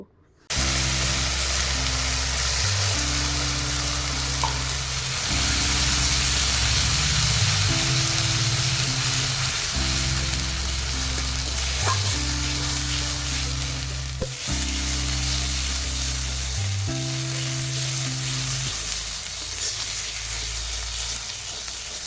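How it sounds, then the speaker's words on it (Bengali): Ground spice paste fries steadily in oil in a wok, a loud continuous sizzle and hiss running throughout, with a constant low background hum underneath. "তেল দিয়ে যে মশলাটা আমি পেস্ট করে রেখেছিলাম ওই মশলাটা দিয়ে ভালোভাবে এক থেকে দুই মিনিট কষিয়ে নিব"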